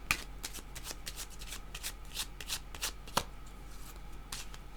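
Tarot cards being shuffled in a steady run of soft riffling and slapping, with sharp flicks throughout and one crisp snap near the end, close and moderately quiet, with no voice.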